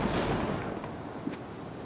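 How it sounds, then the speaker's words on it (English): An explosion in the game Gloomwood bursts with a loud, dense rumble at the start, then fades into a rough, lingering tail, with a small sharp crack near the end and no talk. "There was an explosion."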